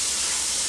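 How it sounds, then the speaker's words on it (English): Eggs sizzling in a non-stick frying pan, a steady loud hiss that fills the short moment without other sounds. "We're going to go ahead and pour our eggs into the frying pan."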